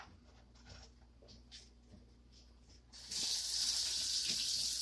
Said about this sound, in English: We'll take a little dip of water from the sink,